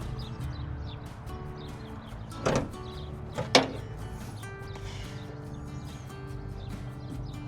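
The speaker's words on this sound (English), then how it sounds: "Pop the hood." On a 6.0 Powerstroke truck, a couple of sharp mechanical clunks and latch clicks ring out as the hood is popped, standing out over a steady low outdoor rumble.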